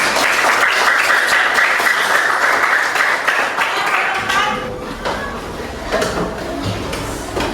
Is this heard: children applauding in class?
yes